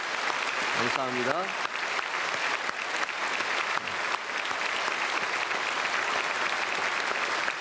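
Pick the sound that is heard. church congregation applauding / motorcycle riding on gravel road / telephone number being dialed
church congregation applauding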